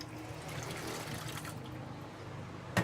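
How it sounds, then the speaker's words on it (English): Water runs steadily from a tap to rinse a coffee-stained espresso machine drain pan. The flow is a constant, fairly quiet trickle and splash, and a brief clatter is heard at the very end. "pick up the drain pan, and dump all of the water and coffee out. Turn on some water, rinse"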